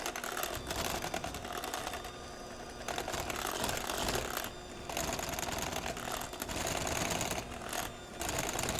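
An electric mixer beats banana bread batter with a continuous dense whirring rattle that dips briefly a few times, close and steady.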